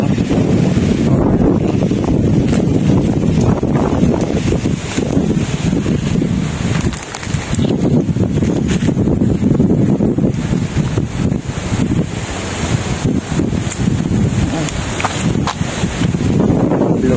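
Strong wind buffets the microphone continuously at a riverside farm property overlooking a mountain, a loud low rumbling roar with gusty swells throughout.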